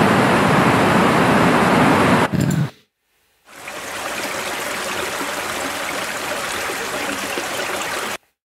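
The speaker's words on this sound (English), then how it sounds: "Third clip as well, we've got some water running through there." Water running in a stream, a close, steady broadband rush that breaks off into a short silence, then resumes at a similar even level.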